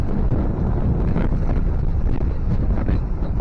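Wind buffets a sailboat running under its genoa with the engine dead, off the Calanques de Piana. A constant low, rumbling rush fills the whole stretch, close to the microphone, with no voices.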